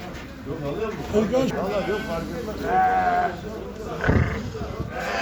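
Sheep bleat several times nearby at a Turkish livestock market while people talk over the flock's calls.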